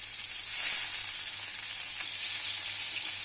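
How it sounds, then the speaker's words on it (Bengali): A piece of rohu fish frying in oil in a pan gives a steady, even sizzle with a slight swell early on, close and moderate in level. "মাছটা একটু ভালো করে ভেজে নিতে হবে।"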